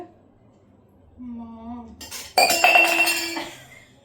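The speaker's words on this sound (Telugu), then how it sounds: "గ్లాస్ పెట్టేసుకున్నా" Glass set down on a hard surface amid dishes during a food-eating challenge among friends: a soft tone, then a bright clink with ringing, rattling glass and crockery close by, fading over a second.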